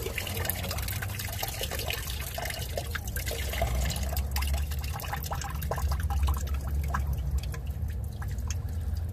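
Fluid draining from the engine of a 1976 Ford F250, a steady close trickle and drip of liquid running continuously over a low background rumble.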